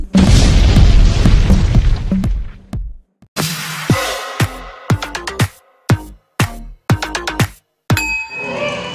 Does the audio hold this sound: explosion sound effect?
yes